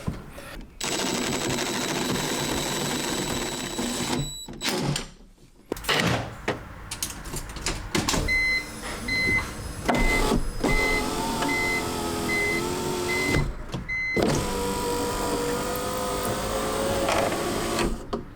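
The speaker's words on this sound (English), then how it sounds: "the window works, regulator works, everything's tidy." Power window regulator motor in a BMW E46 door, running in bursts as the repaired window travels up and down, a steady mechanical whir broken by short pauses, close and fairly loud.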